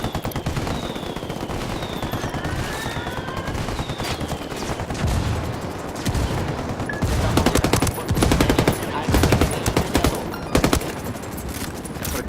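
Rebel mortar fire in the shooter Ghost Recon Wildlands, a sustained barrage of automatic gunfire and heavy bursts that swells louder toward the end, with no talk over it.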